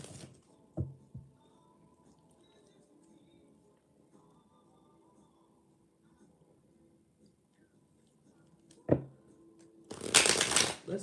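Tarot cards are shuffled indoors, a brief riffle and a soft slap early on followed by a longer, louder burst of rapid shuffling at the end, with quiet stretches between.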